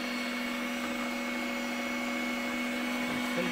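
A kitchen blender grinds peppers and garlic for homemade harissa with a steady, droning motor whine and high-pitched hum that runs unbroken throughout.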